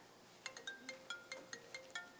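Mobile phone ringing during a college interview, a melodic ringtone of about ten evenly spaced electronic notes, faint and in a quiet room.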